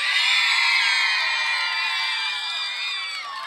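Loud, sustained applause and cheering from an audience at a 2009 Bulgarian folk dance-off show, a dense crowd roar with whoops that stays strong throughout and eases slightly toward the end.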